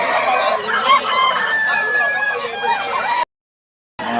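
White dome gamefowl among several roosters at a fowl sellers' gathering, loud clucking and crowing filling the air close by, then a sudden brief dropout before the birds return.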